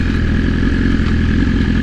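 A BMW S1000RR motorcycle engine runs close and loud with a steady, smooth, even-pitched drone throughout.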